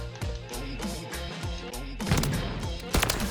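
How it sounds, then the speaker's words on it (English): Shotgun blasts go off in a Call of Duty multiplayer match, with several sharp, loud reports over a busy layer of game effects. They come in quick succession, with a heavier burst near the end. "Another Pixar shotgun. A double shotgun."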